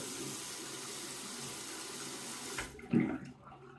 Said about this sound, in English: now I will wet the razor in some hot water here